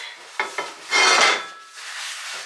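Oil in a cheap frying pan during a stir fry, a couple of sharp pan clinks followed by bursts of hissing sizzle, close and fairly loud.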